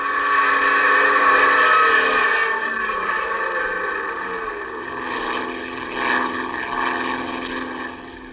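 A radio drama sound effect of a droning airplane engine with a rushing, washing roar, loud and continuous with slow swells, heard alone without voices.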